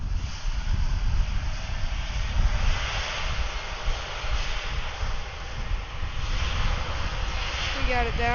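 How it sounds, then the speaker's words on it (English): A Boeing 757 on final for runway 10 at Atlanta airport gives a steady, broad roar of jet engine noise mixed with wind buffeting on the microphone, continuous and fairly loud throughout. "There's a 757 on final for runway 10"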